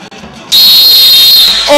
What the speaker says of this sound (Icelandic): Og þarna flautar dómarinn leikinn á.